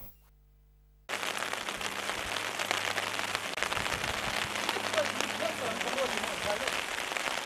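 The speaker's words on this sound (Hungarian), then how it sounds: "Így fest a felújított Marcali Galambok átkötő útmenti árok esőben." Steady rain pours onto a roadside ditch along a renovated road between Marcali and Galambok, a dense, continuous hiss of drops after a short quiet start, with occasional faint tones underneath.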